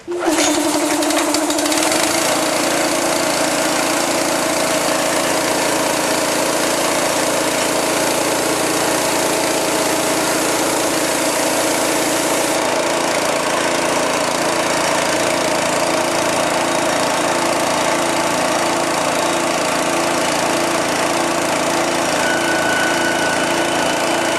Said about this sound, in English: I'm going to put the choke on and I'll give it a start here. Let's start the gas compressor.